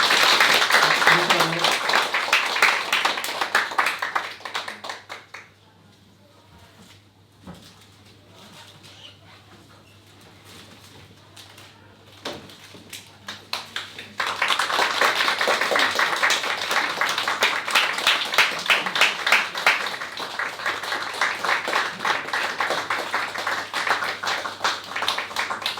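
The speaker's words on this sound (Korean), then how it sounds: "함께 박수 해주세요" A church congregation at an Easter Sunday service bursts into loud, dense applause that fades into a quiet pause with scattered claps, then swells again into a long, sustained round of clapping.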